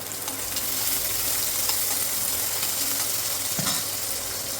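Garlic and onion fry in hot oil with mustard seeds in a pan for mung bean usal, making a loud, steady, close sizzle that fills the whole moment without pause.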